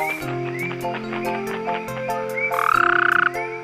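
A cartoon frog croaks loudly in a Hindi children's story, giving a few bright croaks that end in a long rapid trill, set over sustained musical tones.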